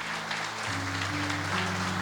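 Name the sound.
congregation applause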